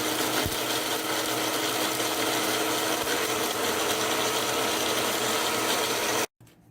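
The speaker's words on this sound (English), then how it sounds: "Here I have put those dry spices which have been roasted nicely in the blender." Blender grinding roasted dry spices, a steady loud whirring rasp running without a break for about six seconds and then cutting off abruptly.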